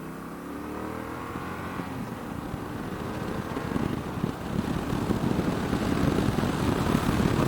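A 2020 Yamaha Tracer 700 engine rumbles with a low, throaty gurgle that grows steadily louder and rougher as it pulls away.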